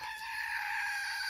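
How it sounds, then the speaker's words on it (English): A rooster crows once in a single sustained, fairly faint call heard on its own, with no talking. "this is Romeo and the Rooster and the Rock and Dink"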